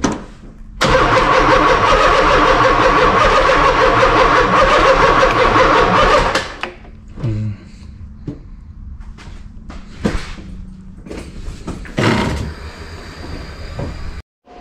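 Nissan 300ZX with a turbocharged LS V8 swap fires up and runs at a loud, steady roar for several seconds before cutting off abruptly, followed by scattered clunks and shop noises nearby.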